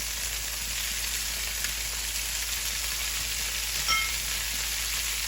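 Garlic cloves and sliced onions fry in a pan alongside lightly browned chicken for a cacciatore, giving a steady, close hiss and sizzle with a brief stir near the end.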